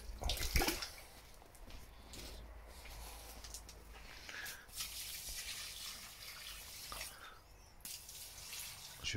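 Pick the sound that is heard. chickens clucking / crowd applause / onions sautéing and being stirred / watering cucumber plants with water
watering cucumber plants with water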